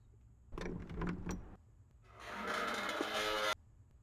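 A door opens in the horror video game The Glass Staircase: a quick burst of clattering latch knocks, a short pause, then a long, loud grinding slide that stops abruptly. No one talks.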